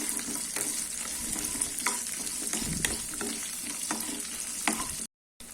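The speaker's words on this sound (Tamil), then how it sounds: "இப்போ 2 பச்சை மிளகாய், 2 காஞ்ச மிளகாய், இதை போட்டு வதக்கலாம்." Green and dried red chillies sautéing in a pan for kathamba chutney, a steady close frying hiss broken by repeated stirring scrapes and spatters, ending in a short silence.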